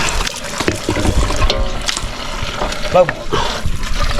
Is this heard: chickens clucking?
no